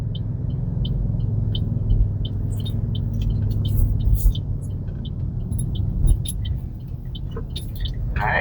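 A car cruising through Honolulu, Oahu, turning right from Paikau Street onto Diamond Head Road, with a steady engine and road rumble throughout and faint clicks and ticks above it, no talk.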